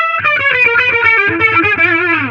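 An electric guitar played through a Line 6 Catalyst 100 amp with a modulation effect such as a flanger, vibe or Leslie: a loud, slightly distorted chord that swirls and wavers in pitch and tone as it rings out.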